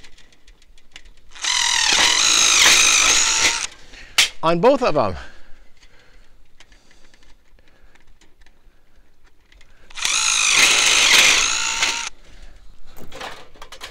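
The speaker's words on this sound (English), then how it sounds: "I'm gonna drill another hole lower." Two separate bursts of a power drill whirring at high speed while drilling holes, each a couple of seconds long, with a short spoken remark between them.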